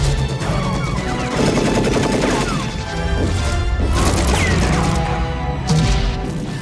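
Dense, continuous gunfire from a Rambo film shootout in which two men face a full battalion: rapid bursts, crashing impacts and heavy booms pile onto one another for the whole stretch, loud and close, with no talk.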